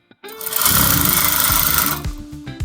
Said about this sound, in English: So here you stitch all through